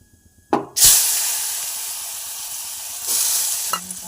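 Refined oil with salt and turmeric in a hot pan, quiet at first, then a loud burst of sizzling that settles into a steady hiss and flares again near the end.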